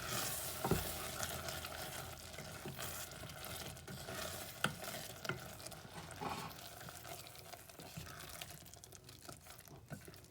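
A spoon working mushroom risotto rice around a pan, steady scraping and stirring with soft sizzling underneath, moderately close and continuous with irregular louder knocks, no one speaking.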